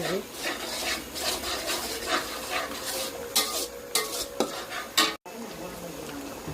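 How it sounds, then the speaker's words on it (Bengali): Spices being stirred and fried in a pan while cooking khichuri with meat, a steady scraping and sizzling close by with a few sharper clinks of utensil on pan, briefly cutting out near the end. "এই যে এখন মশলা দিচ্ছি, সব মশলা"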